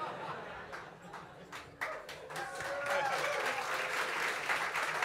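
Audience clapping after a Verdi opera excerpt at a concert, starting sparse with a few separate claps and a voice, then swelling into fuller, steady applause from a moderately distant crowd.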